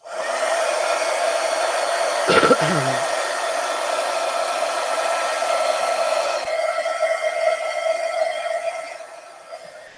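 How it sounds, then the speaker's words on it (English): A heat tool blows hot air over paint on a collage, a loud continuous whooshing hum running nearly the whole time, with a brief clatter partway through before it tails off at the end. "Getting out the heat tool."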